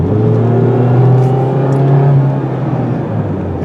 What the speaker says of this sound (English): from the sound, they've got these engines souped up too